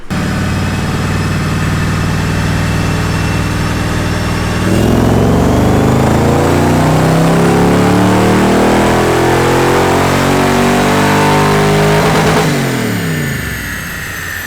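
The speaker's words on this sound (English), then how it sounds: "we're gonna do a baseline pull to see what it's doing now and go from there" An LS1-swapped Nissan Z32 on a dyno for a baseline pull idles, then its V8 revs hard and climbs steadily in pitch for several seconds before dropping off, loud and close with no talk.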